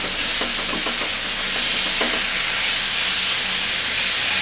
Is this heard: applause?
no